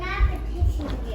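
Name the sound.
daughter's voice in the background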